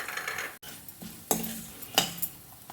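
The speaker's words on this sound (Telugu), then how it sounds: "ఇప్పుడు ఉప్పు, కారం, పసుపు వేసి ఒకసారి కలుపుకొని" Spoon stirring salt, chili powder and turmeric into a sizzling tempering of green chilies and ginger for a potato curry, with a few sharp metallic scrapes against the pan over a low, steady fry.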